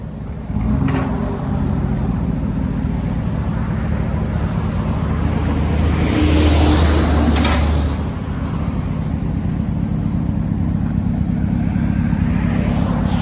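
A 2018 Chevy Suburban 5.3L V8 rumbling through straight-pipe dual exhaust, a loud, deep, steady idle close by with a brief swell in revs midway.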